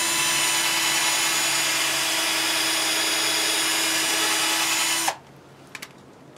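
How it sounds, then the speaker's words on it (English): A power drill bores pilot holes in old barn wood for mounting an electrical box, a loud continuous whine that runs for about five seconds and then cuts off, followed by a few faint clicks. "So I've got to drill two pilot holes."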